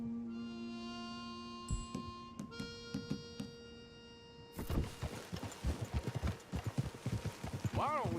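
Horse hooves clopping in Red Dead Redemption 2, a rapid irregular run of hoof falls over dirt, fairly close and loud, following a stretch of sustained musical tones and blending with other game sounds.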